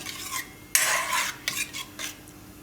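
A spoon stirs pumpkin soup boiling in a pot on a gas stove during a Gujarati home recipe, giving a few close scraping swirls in separate bursts with no talking.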